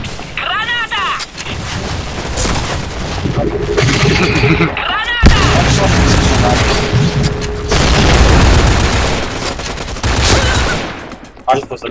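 Grenade blasts in the online shooter Point Blank boom amid rapid bursts of gunfire, loud and chaotic, with voices speaking over the battle.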